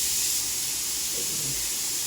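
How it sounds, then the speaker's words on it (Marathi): A pressure cooker's whistle gives off a continuous loud, bright steam hiss for the whole short stretch, with no talk. "कुकरची दुसरी शिट्टी झाली"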